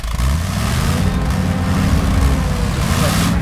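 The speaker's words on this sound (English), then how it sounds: "So we're going to go ahead and start the engine." An engine starts in the SpinTires truck game and settles into a loud, steady, low rumbling idle that runs unbroken throughout.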